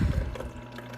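Water poured into the reservoir of a black Gevi nugget ice machine, a brief close splashing gurgle that fades quickly, with no talking.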